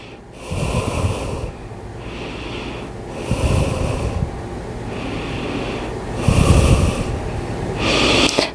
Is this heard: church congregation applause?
no